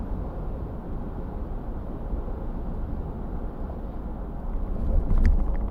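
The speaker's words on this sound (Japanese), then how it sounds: "そして中央道を80キロで走っている時の音です。" A Land Cruiser 300 on Geolandar A/T4 tyres cruises at 80 km/h on the Chuo Expressway, giving a steady low tyre roar and rumble from inside, with a few light rattling clicks and a rougher surge near the end.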